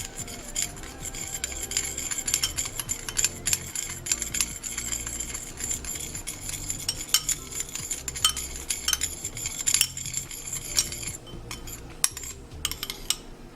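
Metal spoon scrapes and clinks steadily against a bowl while coconut oil is stirred, with a busy close-up stream of small taps and scrapes.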